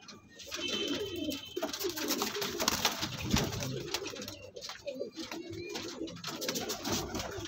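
Several pigeons coo close by in soft, overlapping throaty calls, with occasional rustling and flutters among them.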